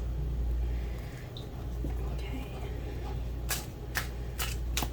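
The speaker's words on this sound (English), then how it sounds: "I'm going to do some shuffles" Tarot cards being shuffled close by, with a steady low rumble underneath and several sharp riffling bursts toward the end.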